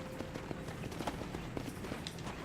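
Horse hooves clip-clopping at an easy pace in the video game Red Dead Redemption, a soft, steady run of thuds over a continuous game backdrop, with a faint voice mixed in.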